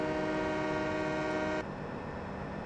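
A train ride in the video game Farming Simulator 17 gives a steady, loud tonal drone like a horn or engine hum that cuts off abruptly partway through, leaving lower rumbling noise.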